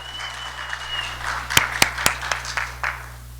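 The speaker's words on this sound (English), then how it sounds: "give him a warm welcome and a round of applause" A meeting audience gives a brief round of applause to welcome a new police chief: a few sharp, sparse hand claps close by, then quickly fading into a quiet room.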